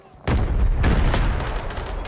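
A grenade blast in the shooter game Arena Breakout bursts in as a sudden loud, deep boom that rolls on as sustained rumbling debris noise.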